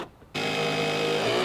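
Power drill driving a screw into wooden deck stairs: after a brief pause, the motor whirs up into a steady, close, loud whine that holds to the end.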